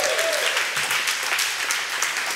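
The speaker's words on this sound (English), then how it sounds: "Give them a big round of applause." Audience applause at a variety show, a full and steady burst of clapping that runs throughout, with a brief voice or whistle near the start.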